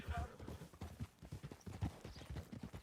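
Donkey hooves clip-clop in a steady, uneven rhythm on a dirt path in Red Dead Redemption 2, fairly close and mixed with game ambience, with no talk over them.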